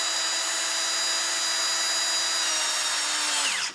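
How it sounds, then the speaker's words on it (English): A cordless drill set to a fixed torque drives Loveless bolts into a knife handle, a close, steady high whine held for a few seconds before the motor winds down and stops. "I've got my trusty cordless, which is set to a particular torque setting"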